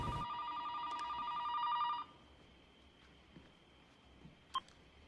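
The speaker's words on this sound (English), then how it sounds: "when the phone rang" A telephone rings with a bright electronic tone for about two seconds at the start, then cuts off, leaving a quiet room with a faint hum and one sharp click.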